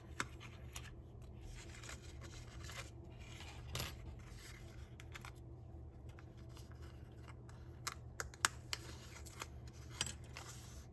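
A die-cutting machine pressing a die through a paper woodland bookmark: steady low grinding and scraping with scattered sharp clicks, faint and close, running on for several seconds with no voices.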